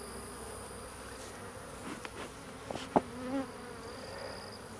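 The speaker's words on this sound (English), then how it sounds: "Trying not to smoke out the bees intentionally." Honey bees buzz around an open hive during a hive merge, a soft, continuous insect hum with a few closer passing buzzes standing out briefly.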